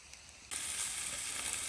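Hash browns frying on a Blackstone griddle, a steady bright sizzle that jumps in loudness partway through and then holds constant, close and with no voices.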